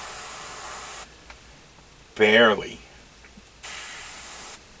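A spray gun blows chrome paint onto model kit parts in two steady, loud hissing bursts with a pause between them. A brief voice comes in during that pause.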